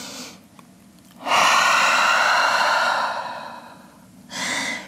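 Deep yoga breathing in downward dog during a vinyasa flow: a short soft breath, then a long, loud, steady exhale that fades out, followed by another inhale starting, all close and without speech.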